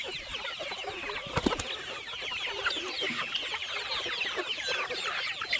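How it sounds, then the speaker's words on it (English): Chickens on a homestead cluck and chatter in a steady, overlapping flock, moderately close and fairly quiet, with a brief clatter near the start and no talking. "It's one thing to have chickens everywhere."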